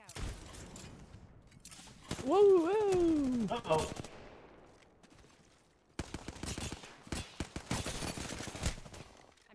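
Bursts of gunfire in the video game Apex Legends, rapid automatic shots in clusters with a descending whooshing effect early, then dense crackling fire after a brief quiet gap.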